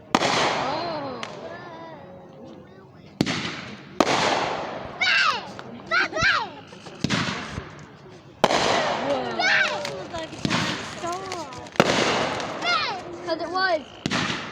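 Fireworks exploding in a series of sharp, loud bangs and crackles at irregular intervals, some with whistling trails, with people talking and exclaiming throughout.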